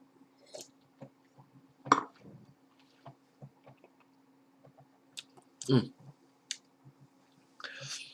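Wine is swished and slurped in the mouth during a tasting, with soft wet sucking and swirling bursts, small clicks and lip sounds, close up and quiet between the gurgles.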